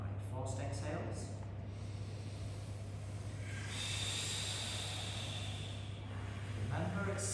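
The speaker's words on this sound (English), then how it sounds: "Right, forced exhales." Several forceful breath exhales during a breathing exercise, airy rushing bursts repeating at intervals over a steady low background hum, fairly close.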